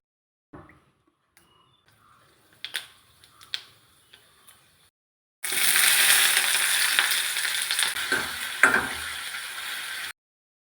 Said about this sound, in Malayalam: ഇതെല്ലാം ചേർത്ത് നമുക്ക് കറിക്കൊന്ന് കടുക് വറുത്തെടുക്കാം